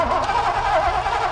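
A Foxbody Mustang GT engine that sat for 24 years cranks over with a loud, continuous churning roar, without a clear catch or start.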